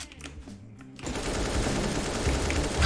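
Rapid gunfire from the AWP sniper rifle in a CS:GO match played with Naruto and Sasuke mods. A quieter opening gives way after a second to a dense, loud burst of shots that lasts to the end.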